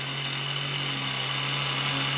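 An old hand-held electric drill, rust-restored, runs steadily with a constant motor whine and hum, close and unbroken, with no talk over it.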